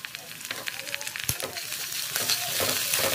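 Ginger garlic paste frying in hot oil with onions and boiled chicken pieces, a steady crackling sizzle with scattered pops and stirring scrapes, close and fairly loud throughout.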